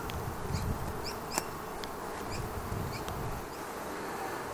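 Honeybees buzzing inside a hollow tree stump in the bush during a hive rescue, a steady close swarm drone with a few sharper insect whines passing near.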